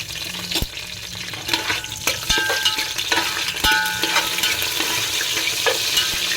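Cardamom, cloves, cumin, cashews and shahjeera fry in hot oil for chicken biryani, making a loud close sizzle with scraping stirs and a few sharp knocks against the pan.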